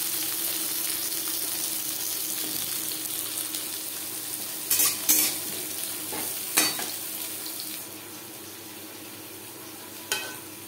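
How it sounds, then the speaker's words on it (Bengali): Papaya and vegetables frying in refined oil in a wok, a steady loud sizzle with a few sharp utensil clinks and scrapes scattered through. "অন্য একটি কড়াইতে আমি সবজি ভেজে নেব"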